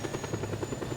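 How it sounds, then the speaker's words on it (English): Helicopter in the video game Just Cause 2, a brief steady rotor chop with a continuous engine hum, fairly quiet throughout. "I will pick up the other helicopter."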